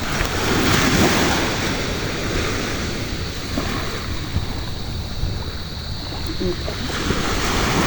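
Steady sea waves wash onto the beach, with a continuous surf roar and gusts of wind buffeting the microphone.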